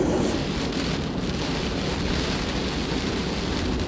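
Steady, dense rain noise with a low rumbling bed, heard from inside a vehicle driving north from Guaymas, Mexico toward Arizona through summer thunderstorms; constant and fairly loud throughout with no talk.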